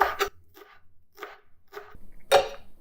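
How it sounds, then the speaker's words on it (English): Parsley being finely chopped with a knife on a board: a few sharp, separate chops spaced about half a second apart, close and clear, with no talking. "So you just finely chop the parsley"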